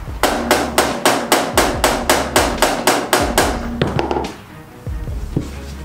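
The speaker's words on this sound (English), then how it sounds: "We're gonna get us a little baby hammer." A small hammer taps metal parts onto a 49cc Baja ScooterX go-kart wheel in a fast, even series of about a dozen sharp knocks, then a few scattered lighter taps close by.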